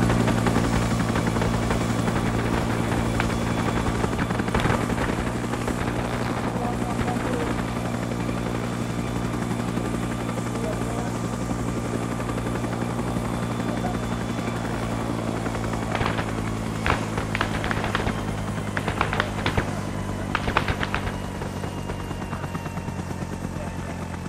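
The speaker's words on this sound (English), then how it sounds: "make sure this chopper gets off the ground" Military helicopter on a water resupply run, a loud continuous rotor thump and turbine whine close by, with voices and scattered sharp cracks on top of it.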